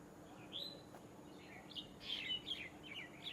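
Birds chirp and tweet in short bright bursts over a rooftop garden with tomato plants after rain, fairly faint against steady background noise, with no talking.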